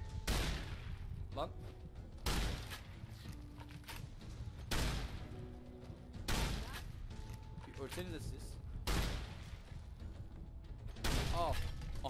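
Gunfire in Fallout: New Vegas, a series of sharp, loud shots spaced every second or two with booming tails, while someone talks over the action.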